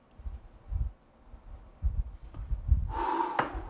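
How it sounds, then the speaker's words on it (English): Sharp sniffs of dry coffee grounds during a home cupping session, several close breathy inhales in an uneven rhythm, with one louder, brighter snort near the end. "sniff the dry fragrance, and make notes about it"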